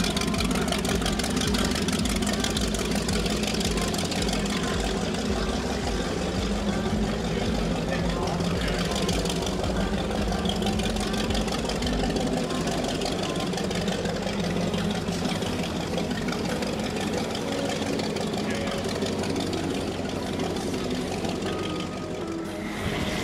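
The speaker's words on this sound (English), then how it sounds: "let's listen in as Sal Olivia pulls his 42X off of the dock" A 42X powerboat's engines idle with a steady low rumble as the boat pulls away from the dock, a constant loud drone with no pauses.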